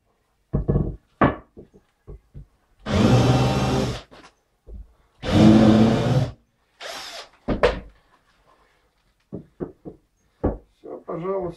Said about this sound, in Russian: После чего беру второй шуруповерт. В нем тиньковка.